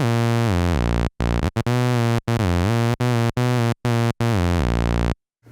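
A single buzzy tone from a Korg KingKORG synthesizer plays a stepping melody of sustained notes separated by short gaps, loud and alone.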